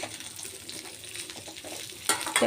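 A seasonal vegetable frying in a pan for pickle, a soft steady sizzle broken by faint stirring scrapes, then a louder burst of sizzle and clatter at the end.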